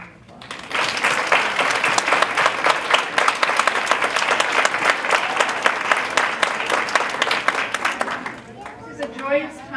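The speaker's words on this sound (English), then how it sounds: "So let's give them a round of applause." An audience at an ESL graduation ceremony applauds, a dense and loud mass of clapping that holds for about eight seconds and then fades as a voice begins to speak.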